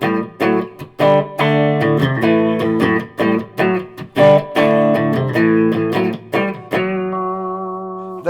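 A Fazley Outlaw Series Maverick electric guitar plays through an Orange TH30 amp with a reverb pedal, sounding loud and clean with strummed chords and choppy stops, ending on a ringing sustained chord.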